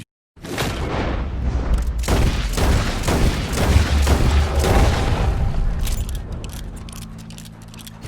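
Rapid gunfire from the video game Red Dead Redemption 2: a loud, booming volley of repeated shots with echoing tails that fade into a low hum near the end, no talk.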